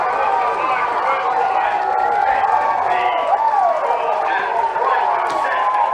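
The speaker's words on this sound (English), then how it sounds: "this crowd really starts to get a little bit more rambunctious" Rugby grand final crowd between Brighton and Burnside roaring and cheering after a try, a sustained loud wash of voices with a commentator talking over it.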